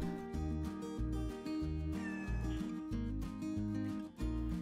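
Faint kitten meows, repeated in a quick, regular rhythm over a soft, steady background.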